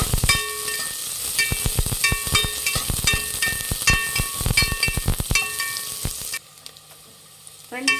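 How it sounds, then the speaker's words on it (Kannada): Chopped onions frying in hot oil for a village-style fish curry give a steady, close sizzle with crisp stirring clicks and scrapes, then drop to near quiet for the final moments. "ಈರುಳ್ಳಿ ಚೆನ್ನಾಗಿ ಫ್ರೈ ಮಾಡಬೇಕು"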